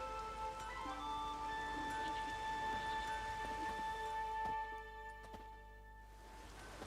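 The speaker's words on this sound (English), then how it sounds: "There's no point standing here in the rain." Steady rain pours through an outdoor village scene in the video game Witcher 3, a continuous wash of drops with a faint rumble beneath, holding even level throughout with no talk over it.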